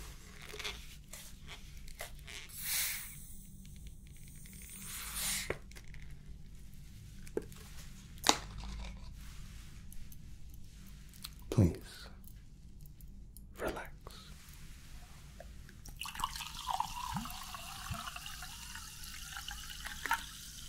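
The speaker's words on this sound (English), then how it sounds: "let's pour ourselves a glass of sparkling water." San Pellegrino sparkling water is poured into a glass in a quiet room, giving soft trickling and fizzing with scattered clicks and crackles, and the bubbling grows denser toward the end; whispered talk is heard alongside.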